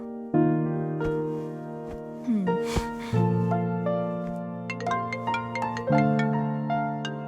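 An electronic phone ringback melody plays alone, a series of bright synthesized tones repeating in a steady musical pattern at moderate volume.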